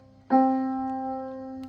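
A single sustained piano-like note struck once, ringing clearly and slowly fading with no talking.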